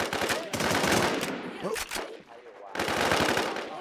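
Automatic gunfire in the video game Infestation rattles in rapid, loud, continuous bursts, pausing briefly in the middle before resuming.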